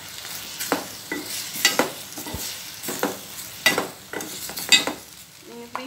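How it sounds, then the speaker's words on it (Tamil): Green chillies, broken by hand, sauté in a pan for a multipurpose gravy, with repeated scraping stir strokes and light sizzling at close range, no talking. "இந்த பச்சை மிளகாய் அதை உடச்சி சேர்த்துக்கிறேன். நல்லா வதக்கிக்கலாம்."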